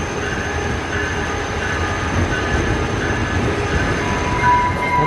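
A Talgo train rolls past close by, a continuous loud rail roar with faint wheel squeal and clatter holding steady throughout, with no voices.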